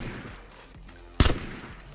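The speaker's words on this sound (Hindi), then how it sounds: "पागल है क्यों गोली चला रहा है" Gunfire in the video game PUBG: one loud sharp burst of shots cracks out mid-clip over a quieter background of game ambience.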